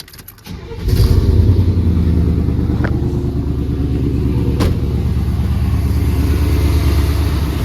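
A 1992 Chevrolet Silverado fitted with long tube headers and a MagnaFlow exhaust starts up and settles into a loud, steady, deep rumbling idle up close, with a couple of sharp clicks partway through.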